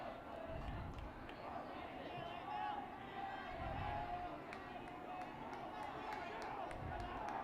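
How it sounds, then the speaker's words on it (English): Crowd at a high school baseball game between Polytech and Woodbridge at Frawley Stadium, with two runners on before a full-count pitch: a steady murmur and cheering from the stands, with a commentator talking over it throughout. "Crowd getting into it here with 2 runners on and a 3-2 pitch upcoming."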